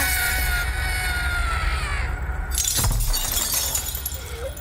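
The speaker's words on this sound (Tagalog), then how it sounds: "Tapos nabasag yung salamin." Mirror glass shattering in an animation, a loud, sustained crash of breaking glass followed by tinkling fragments, set over a steady dramatic soundtrack.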